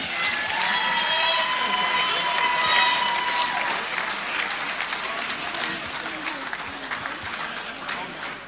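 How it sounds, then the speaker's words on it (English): An audience at an Australian football league awards night at Belmont 16 Footers claps for the Team of the Year, steady applause with some cheering and a voice over the top early on, gradually easing. "Another big round of applause for the Team of the Year in the Black Diamond AFL"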